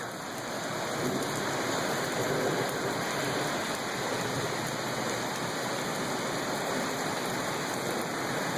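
Steady, even rain falling continuously, a dense hiss with no pauses and no voices.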